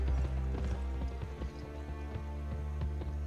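Horse hooves clip-clop in a steady, quick rhythm in the Western video game Gun, even and fairly quiet over a low continuous background rumble with no talking.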